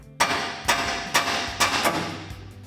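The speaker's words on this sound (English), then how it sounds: "we can take a hammer and hit the knuckle to pop our ball joint free" A hammer strikes the steering knuckle of a 2014-2020 Ford F-150 to pop its ball joint free during a suspension lift install. Five or six sharp metallic blows land about half a second apart, each one ringing briefly. Nobody talks.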